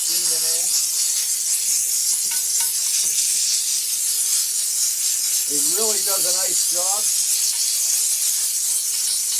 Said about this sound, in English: we've used the steam cleaner for about 100 different things already